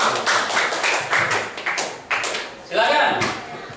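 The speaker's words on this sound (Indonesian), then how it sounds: "Tepuk tangan untuk kelompok kinestetik" A classroom group gives a short round of patterned clapping for the kinesthetic group, a burst of crisp rhythmic claps from several pupils, close and fairly loud, ending after a few seconds.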